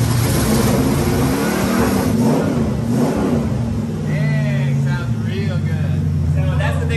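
A carbureted Lamborghini engine rumbles and revs up and down, loud and close, with a person talking over it throughout.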